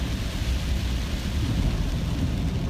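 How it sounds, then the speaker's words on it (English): Heavy rain from Hurricane Harvey pours steadily outside, a dense, unbroken roar of rainfall, loud and close, with no voices heard. "As you can kind of see, the rain is picking up real fast."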